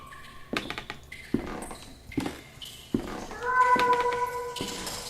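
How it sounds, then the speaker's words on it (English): A cat meows with an eerie echo in the video game The Last Door; a few short thumps come first, then drawn-out tonal cries rise in the second half over a quiet, dark ambience. "The cat's meow is louder here."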